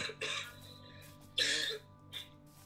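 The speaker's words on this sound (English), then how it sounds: "Stop coughing in the phone, fam." Someone coughs into a phone during a call, producing a few short, harsh, close coughs with brief quiet gaps between them.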